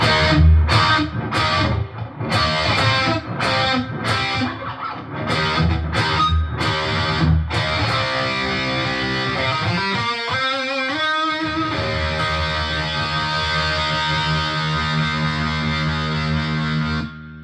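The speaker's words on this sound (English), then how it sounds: "bring up the spring reverb" Electric guitar through a G4M GA-20E amp: choppy strummed chords, then sustained notes with a bending wail, ringing out with a splashy, lingering spring reverb tail.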